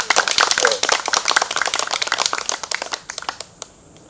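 A crowd applauds at the 93rd memorial ceremony for writer Choe Hak-song, held on a hot day, with dense clapping that gradually thins into a few scattered claps and dies away.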